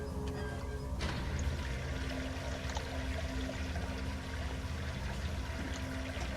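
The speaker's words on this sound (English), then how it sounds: "Did that drain this water?" Water draining and gurgling in the video game Penumbra, a continuous rushing, pouring flow with a sharp clank near the start, steady and fairly close, with no speech.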